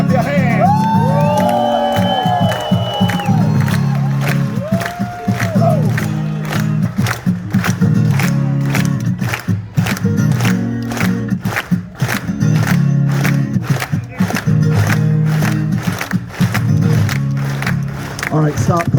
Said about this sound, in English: there was some pretty rhythmic clapping right there